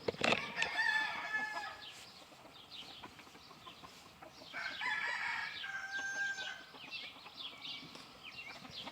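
Chickens in a backyard chicken yard cluck and a rooster crows, the calls loud and close in two busy bursts separated by a quieter stretch of scattered clucks.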